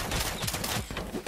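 Gunfire in the Lego Fortnite video game, a dense, loud burst of repeated shots with thumping low impacts spread across a short stretch, no talk over it.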